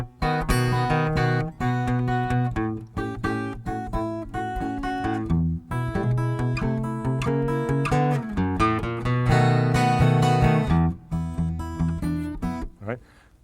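Acoustic blues guitar turnaround played with four-finger picking, a close, steady run of plucked notes over open bass strings moving through five, four and one chords, continuous with brief pauses and no talking.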